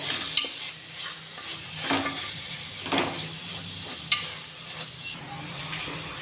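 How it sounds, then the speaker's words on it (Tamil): Minced meat is stirred in a pot while cooking Ramadan nonbu kanji, producing a low simmering sizzle with several distinct clinks and scrapes of a utensil against the pot. "இப்போது அதை நல்லா கிண்டி விட்டுக்கிடுவோம்."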